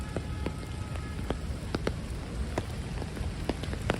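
Steady rain falls across Central Park in New York City, a dense even patter of drops on the ground and leaves, close and continuous with sharper individual hits scattered throughout, no voices.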